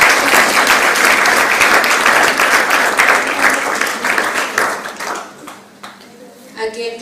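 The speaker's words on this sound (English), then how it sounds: "can I get a round of applause?" Audience applause at a public lecture at Multimedia University, dense clapping sustained for about five seconds and then thinning into scattered claps, with voices mixed in.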